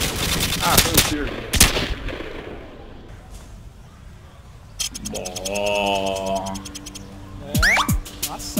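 Bursts of rapid gunfire crackle and pop in quick volleys in Counter-Strike on a Rio map, with sharp single shots and synthetic game effects layered between them.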